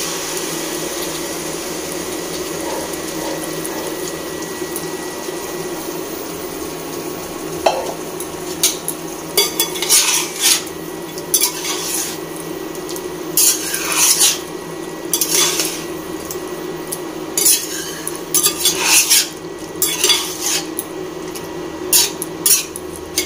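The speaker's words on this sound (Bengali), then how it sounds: "তো এখন আমি মাংসটা এখানে ঢেলে দিচ্ছি" Mutton is tipped into a pan of fried potatoes and stirred, a steady background sizzle overlaid with repeated scraping and clattering of a utensil against the pan, close and without speech.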